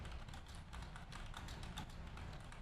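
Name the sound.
clicking on a computer while searching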